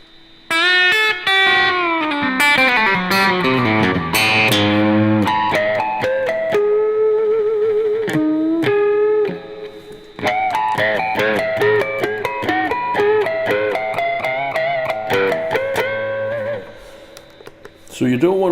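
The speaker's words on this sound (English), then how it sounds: "Should we put too much distortion on it? Go on then, let's put too much distortion on it." An electric guitar fitted with Wilkinson pickups and bridge plays heavily distorted chords and riffs, loud and sustained with brief pauses between phrases.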